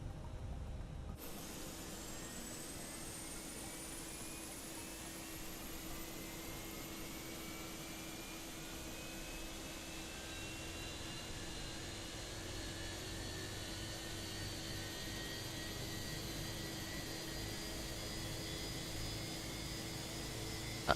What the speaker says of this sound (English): let's start these engines and see what the fuss is about